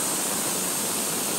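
Compressed air from a compressor hisses loudly and continuously as it blows moisture onto a hot engine crankshaft, a harsh broadband rush with no pauses.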